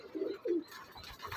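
Tournament-flying pigeons give two soft, low coos close by, followed by a faint rustle.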